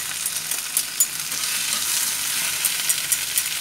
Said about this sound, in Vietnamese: Xào cho nó ra nước cà nó ngon.